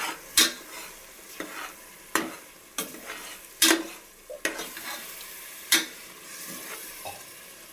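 Ground masala paste is stir-fried in a pan for mushroom pulao, with a soft sizzle broken by sharp, irregular spoon scrapes and clinks against the vessel.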